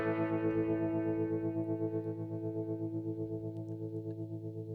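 A sustained guitar tone run through an Eventide Spring reverb app on iOS, rich and harmonically thick with a steady pulsing shimmer, ringing alone without any voice.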